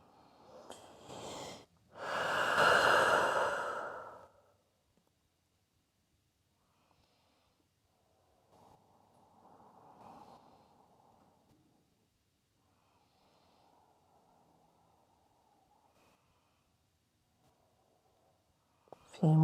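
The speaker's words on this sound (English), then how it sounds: "A few more deep rounds of breath here." Deep breathing during a slow yin yoga session: a loud, close nasal inhale and exhale at first, then several faint, slow breaths trailing off into near silence.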